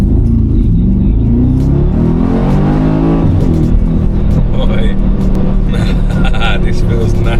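A tuned Mercedes G-Wagon's engine rumbles loudly and revs up close, a deep, throaty drone that rises and falls while a person talks over it.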